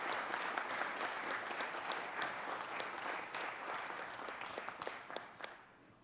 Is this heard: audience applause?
yes